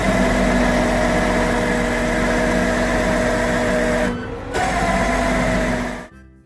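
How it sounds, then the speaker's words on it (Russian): A tow truck's engine idles in a steady, rumbling drone, dips briefly partway through, then cuts off abruptly at the end. "Эвакуатор."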